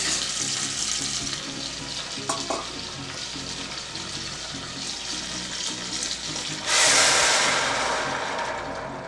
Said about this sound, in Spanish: lo que vamos a agregar es nuestro caldo o agua hirviendo.